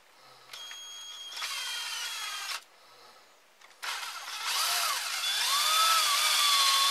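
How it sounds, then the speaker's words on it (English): A power drill bores a hole in a piece of wood for a homemade deadfall mouse trap. Loud whirring bursts start and stop, with a pause between them and a rising, strained whine as the bit bites in. "so I'll drill a hole in that"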